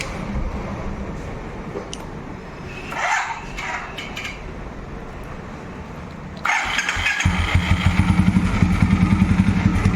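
An old Royal Enfield Electra 5-speed motorcycle under restoration is kicked over with a few clattering attempts, then catches and settles into a close, loud, steady thumping idle.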